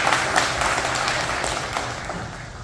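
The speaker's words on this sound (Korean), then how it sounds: "큰 박수 부탁드리겠습니다" At a Buddhist teachers' training event, an audience applauds a speaker, a brief burst of dense hall clapping that holds steady and then gradually tapers off.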